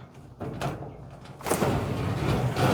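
An old barn door that has sat shut for decades is opened, housing a 1949 Chevy coupe. It gives a loud, close, rumbling scrape that swells after a brief lull and keeps going.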